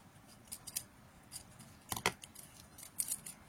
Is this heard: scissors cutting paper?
yes